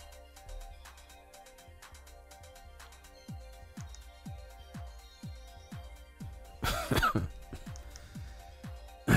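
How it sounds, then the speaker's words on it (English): A man clears his throat and coughs over and over in a quiet room, short rough bursts at a steady pace, close to the microphone, with a louder coughing fit near the end. "coughing all the time"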